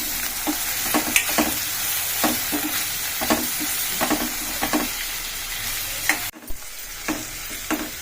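Onion, tomato, green chilli and ginger-garlic paste fry in a pan with a steady sizzle. A spoon stirs and scrapes at an even rhythm, then a brief clatter and a short pause break the sound.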